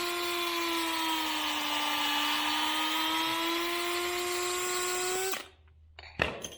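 A power drill bores a hole for a 3/8 bolt while building a wooden raised garden bed: a loud, steady whining drone for about five seconds that cuts off abruptly, followed by a couple of brief knocks.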